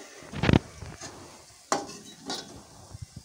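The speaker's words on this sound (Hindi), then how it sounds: "इसे पलटते हुए अच्छे से गोल्डन ब्राउन सेकना है हमको" Vada pav potato fritters deep-frying until golden brown under a low bubbling sizzle, with several sharp scrapes and clinks of a spoon turning them in the pan, close and without talk.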